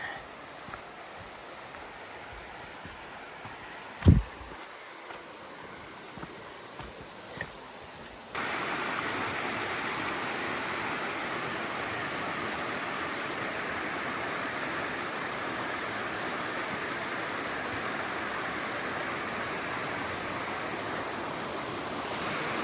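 A creek flows beside a hiking trail in Tennessee, a steady broadband rush of water that grows louder and more constant partway through, with a few brief knocks early on.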